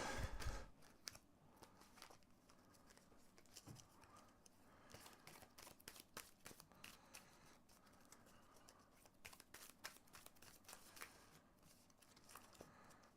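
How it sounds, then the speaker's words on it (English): A deck of cards for the Arkham Horror card game is shuffled by hand, with a dense run of quick riffling, snapping flutters repeating close by for several seconds and no talking. "let's give these a good shuffle up"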